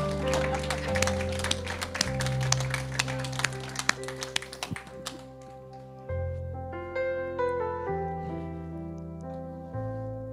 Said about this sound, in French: Ah oui, on applaudit tout.